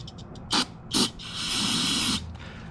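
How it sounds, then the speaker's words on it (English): Brake cleaner sprayed from an aerosol can onto the water pump of a 2006 Yamaha YZF 450 motorcycle: two short hissing bursts, then one longer steady spray of about a second, close and loud. "So what I'll do to this thing right here is I'll hit it with some brake cleaner"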